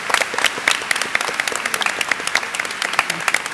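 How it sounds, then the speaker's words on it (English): An audience at a college academic convocation applauds the senior class, giving dense, steady clapping from many hands across a large hall, heard alone with no talk. "Let's applaud our senior class."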